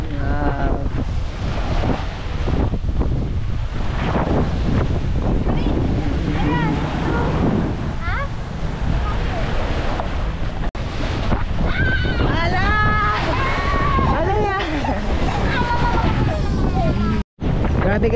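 Sea waves and strong wind buffeting the microphone aboard a boat on open water, a continuous loud rushing wash, with people talking and calling out over it throughout.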